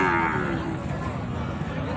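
A single drawn-out Sahiwal cow moo, low and droning, stands out against outdoor background noise at a cattle market.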